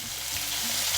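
Crushed garlic and tomato frying in oil for Kerala rasam, a brief, steady close sizzle with no voices.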